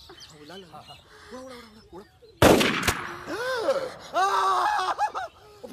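A sudden loud blast cracks out mid-clip, amid excited voices and laughter with bird-like calls around it.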